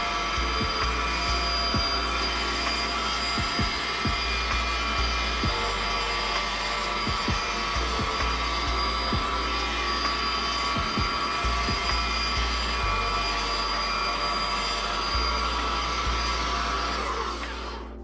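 Ryobi 40V HP brushless rear tine tiller (RY40720VNM) digging into hard garden soil, a steady loud motor drone with tines churning throughout and occasional low thumps as they bite the ground.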